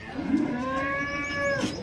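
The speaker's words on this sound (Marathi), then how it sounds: "पार्टी गाय आहे." An HF cow at a cattle market in Sangola gives one long, loud, close moo that holds a steady tone before tapering off, with faint market background and no talking.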